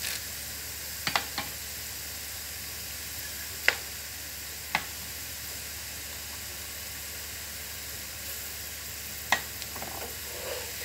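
Whole spices frying with onions for chicken karahi give a steady, fairly quiet sizzle throughout, with a few sharp clicks of stirring or spattering scattered across it.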